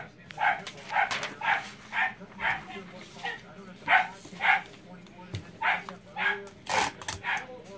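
A dog barks in a steady run of short, high yipping barks about twice a second, close and fairly loud over a low background hum.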